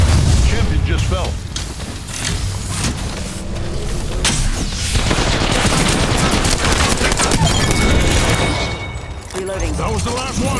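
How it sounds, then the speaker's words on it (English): Grenade blasts and bursts of automatic gunfire from an Apex Legends firefight, loud and dense, booming continuously through the whole stretch with heavy low rumble and rapid shot clusters. "Throw my grenade out."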